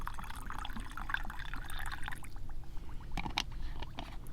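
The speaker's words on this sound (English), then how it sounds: "because it's bubbling right now, trying to get all the way down to the bottom" Hot pepper tincture in a jar fizzing as poured alcohol seeps down through the peppers, a soft continuous watery bubbling and trickling with a few brighter pops, close and fairly quiet.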